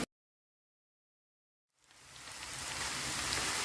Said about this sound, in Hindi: प्याज को हमने 2 मिनट फ्राई करना है ताकि इसका कच्चापन ख़त्म हो जाए।